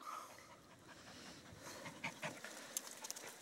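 A dog panting quickly and whining in short high-pitched whimpers close by, nosing at a chipmunk hidden in an outdoor firepit, the whines growing sharper toward the end.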